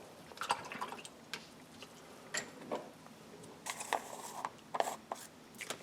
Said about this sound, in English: then you can just wash it out with water